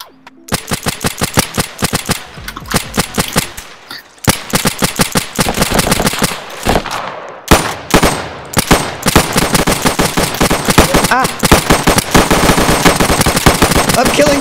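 Rapid bursts of automatic gunfire from a Roblox roleplay game, dense repeated volleys with a brief pause near the start, loud and close, running almost continuously with faint voices underneath.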